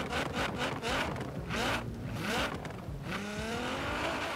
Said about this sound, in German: Soundtechnisch braucht sich der Wagen auch nicht zu verstecken,